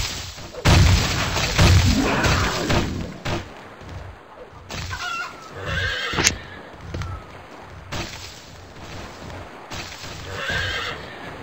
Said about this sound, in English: Hey, Bolt! Everyone's favorite horse